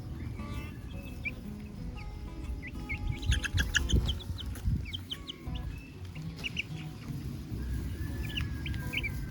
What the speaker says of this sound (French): On entend les coqs chanter au loin.